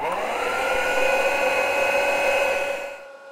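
A Shark Navigator vacuum cleaner runs with a steady, loud whine and hum as its repaired beater bar rotates, then the motor cuts off and the sound fades to silence near the end.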